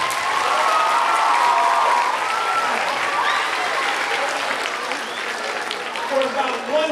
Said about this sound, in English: let's give another round of applause for Dakota.